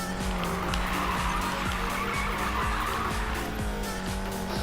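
A Volkswagen Golf 7 GTI drifts in the racing game Need for Speed Payback, its engine droning while tires squeal and skid in repeated bursts, alone without talk.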